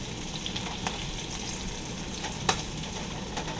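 Pork tenderloin searing in a hot pan, with a steady close sizzle and faint crackles and pops, and no talking.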